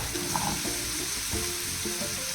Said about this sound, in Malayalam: ജിഞ്ചർ ഗാർലിക് പേസ്റ്റ് ഇട്ട് എന്നിട്ട് ഉരുളക്കിഴങ്ങ് ഇടുക.